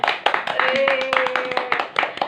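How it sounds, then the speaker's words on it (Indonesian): A classroom of students clapping their hands for a classmate, a brisk run of close, uneven claps mixed with voices talking over them. "Tepuk tangan untuk Saban."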